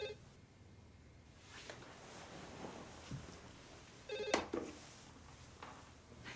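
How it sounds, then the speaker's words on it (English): A telephone in a school office rings in a faint, repeating electronic pattern, with a louder burst partway through, over a busy background murmur. "Can you answer the phone?"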